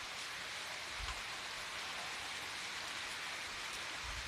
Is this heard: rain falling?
yes